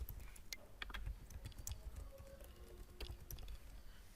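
Login credentials being typed on a computer keyboard, a quick irregular run of soft close key clicks, faint and without any talking.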